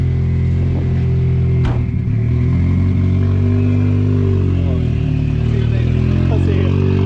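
A drift car with its bumper falling off rolls slowly, its engine a loud, steady low hum throughout with a brief clatter early on.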